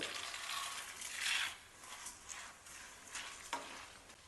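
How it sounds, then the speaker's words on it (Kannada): Roasted gram being fried and stirred in a pan for a spicy puffed-rice snack, giving a steady close sizzle with scraping stir strokes, a louder swell near the middle and a sharp clink toward the end. "ಕಲರ್ ಬರೋ ತನಕ ಫ್ರೈ ಮಾಡ್ಕೊಬೇಕಾಗತ್ತೆ."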